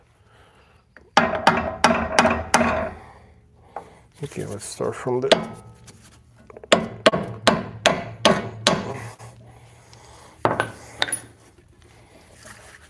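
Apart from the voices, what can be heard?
hammering out a car suspension part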